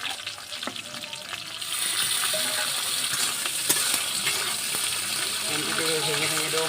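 A hilsa fish head drops into hot oil with garlic and green chillies, and the frying sizzle swells suddenly louder and stays intense, with occasional sharp pops, close up.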